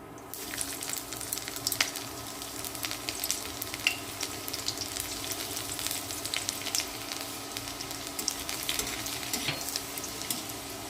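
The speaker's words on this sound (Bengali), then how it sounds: "রসুনটা আমি হালকা করে ভেজে নিয়েছি" Garlic and cumin seeds frying in hot oil for spinach puri filling, a steady close sizzle with fine crackling pops running throughout, no voices.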